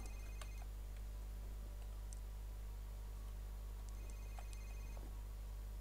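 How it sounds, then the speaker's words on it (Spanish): A telephone rings in the horror shooter FEAR, faint repeated electronic trills in short bursts over a low steady hum and ambient drone. "Oigo un teléfono que tiene que venir"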